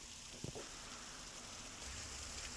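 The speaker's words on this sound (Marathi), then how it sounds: "मध्यरात्रीपासून जिल्ह्यात जोरदार पाऊस पडतोय।" Heavy rain pouring steadily in a district in Maharashtra, a constant broadband hiss with a couple of brief knocks near the start and a slightly louder rumble toward the end.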